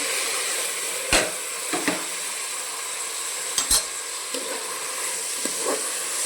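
Tomatoes frying in a pan for tomato bath, a soft continuous hiss broken by a few sharp scrapes and knocks of the stirring utensil against the pan.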